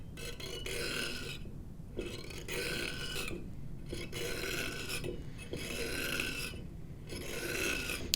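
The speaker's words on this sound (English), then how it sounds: "as it's rotating, you can shave off some of the clay." A fine saw shaves clay from a soil specimen turning on a trimming device, giving repeated raspy scraping strokes in bursts with short pauses between them, close and steady.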